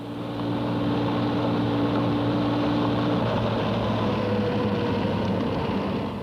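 A 1973 Porsche 911 engine runs on a factory dynamometer test with the gear train and brakes, a loud steady droning hum with a clear tonal note that shifts pitch midway.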